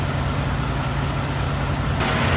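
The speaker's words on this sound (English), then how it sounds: "I have the truck running behind me, so I hope you can hear me." A semi truck sits idling close by, its diesel engine giving a steady low rumble with a continuous throbbing pulse that stays loud and unchanged throughout.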